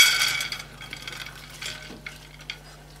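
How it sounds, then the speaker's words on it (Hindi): Lentils poured into a pot of olive oil on the stove, a burst of hiss and sizzle at first, then soft stirring scrapes and clinks fading to a quiet simmer. "इसमें अब आपने पहले अपनी दालें ऐड कर लेनी है।"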